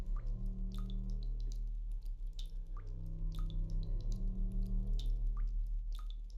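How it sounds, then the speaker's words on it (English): Water falling and dripping in the video game Silent Hill 2: faint, irregular drips and plinks scattered over a low, steady hum, quiet and with no talking. "It's so weird there's like water falling down."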